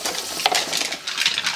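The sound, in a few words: dishes being rinsed and stacked in a sink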